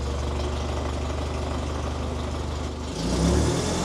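A remote-controlled Terex crane's diesel engine runs at a steady idle, then revs up with the throttle near the end, the rumble rising briefly and loudly.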